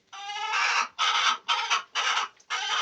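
Chickens in a hen house on a laying farm cluck and squawk loudly in five close bursts separated by short pauses, with no talking.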